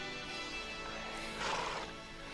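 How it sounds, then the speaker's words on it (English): An Andalusian horse in the fantasy film Legend gives a faint, distant neigh over a dense, continuous film soundtrack, with the whinny swelling briefly near the middle. "What is that? An Andalusian horse?"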